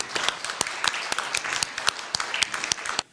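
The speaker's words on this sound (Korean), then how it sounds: "기립하셔서 박수로 추대하도록 하겠습니다" A standing church congregation gives a round of applause to honor a newly nominated pastor, the individual claps sharp and distinct, arriving in a quick, fairly regular patter rather than a thick roar.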